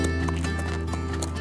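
A mustang horse walks with a saddle on, its hooves clip-clopping in a steady, close rhythm against constant background noise, with a soft snort or whinny-like sound mixed in.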